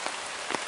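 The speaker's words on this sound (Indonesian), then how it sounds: "Suasana hujan seperti ini di daerah pegunungan, dan ini salah satu rumah terpencil," Rain falling in a mountain area around a remote lone house, a steady soft patter of drops on surfaces with a couple of slightly louder splashes, fairly quiet and with no voices.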